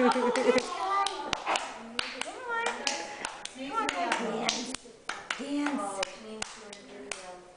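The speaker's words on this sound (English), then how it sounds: "You gotta keep clapping." Children clap their hands in a loose, uneven rhythm at home, sharp close claps scattered throughout while young voices and an adult talk and call out over them.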